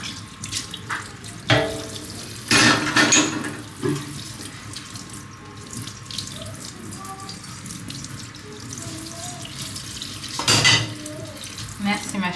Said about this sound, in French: J'ai profité pour faire la vaisselle étant donné que l'eau est revenue.